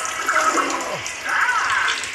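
Water spray effect in the Muppets 3D attraction, a steady broadband hiss of spraying water with a brief dip midway, fairly loud and close, with no talk over it.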